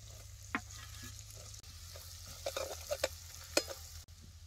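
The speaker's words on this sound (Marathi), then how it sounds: "लसूण जरा लालसर वस्तू तेलात असं जरा खालवर करून घ्यायचा" Crushed garlic and a peanut-coconut masala frying in oil in a village kitchen, a soft steady sizzle broken by a few sharp scrapes and clinks as the mixture is stirred, fairly faint and without talk.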